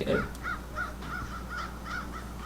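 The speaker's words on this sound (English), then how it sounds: "When these black, dirty looking birds come flying around" Black crows caw repeatedly in a steady series of calls as they fly around in Bermuda, moderately distant over faint background noise.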